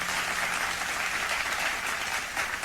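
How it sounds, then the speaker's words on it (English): Audience applause at a dupatta drill dance class, brisk continuous clapping from a group, moderately loud and even throughout with no pauses. "Please do a huge round of applause."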